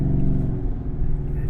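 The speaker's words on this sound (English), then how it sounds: "because you do really hear that exhaust" Race truck exhaust revving up close, a loud, steady low rumble with a slight wavering rise and fall across the whole short stretch, no voices over it.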